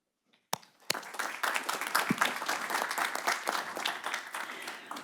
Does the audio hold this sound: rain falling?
no